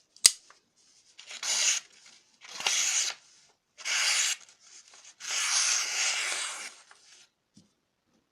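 A Real Steel E77 Flipper knife slicing through paper in four rasping strokes, each a short scratchy swish, close and clear with near silence between, after a sharp initial tap.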